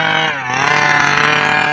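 The small gas engine of a Losi 5IVE-B RC car runs loud and close, a buzzy, chainsaw-like whine that dips briefly and then revs back up steadily.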